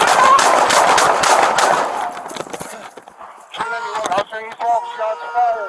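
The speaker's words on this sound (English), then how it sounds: "Shots fired." Gunfire during a police shooting at a Los Angeles 110 freeway on-ramp, a loud rapid burst of several close shots in the first two seconds, followed by shouting voices and a rising siren.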